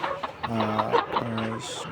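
Penned chickens cluck close by in a rhythmic series of short throaty calls, several birds overlapping, with a faint voice underneath.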